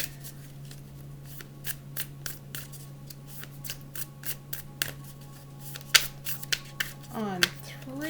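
Tarot cards are shuffled in a quiet room, giving a run of soft, irregular snaps and riffles and ending in a quick cascading riffle, with a low steady hum underneath.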